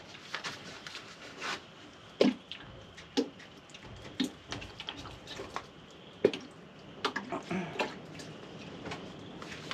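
Water is poured over freshly transplanted tomato seedlings in soil, producing scattered drips, splashes and soft trickles at close range with irregular gaps between them.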